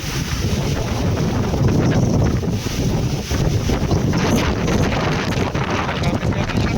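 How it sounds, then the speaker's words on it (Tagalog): Strong, gusting typhoon wind in Anda, Pangasinan roars and buffets steadily throughout, with a rough low rumble of wind hitting the microphone. "Hangin."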